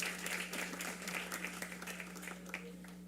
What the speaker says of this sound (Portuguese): Aos seus aplausos, senhoras e senhores, a diretora do CEPC, sendo homenageada pelo deputado Rony Silva.